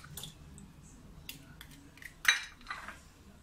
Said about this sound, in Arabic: غادي نهرس جوج ديال البيضات